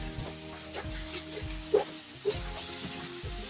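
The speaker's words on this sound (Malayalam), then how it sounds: "ഇഞ്ചി വെളുത്തുള്ളി ചതച്ചത്, പിന്നെ പച്ചമുളകും ഇട്ട് ഒന്ന് വഴറ്റുക" Crushed ginger, garlic and green chilli sizzle and fry steadily in a hot pan for egg masala, with a continuous close hiss, soft stirring scrapes and a couple of brief louder spits.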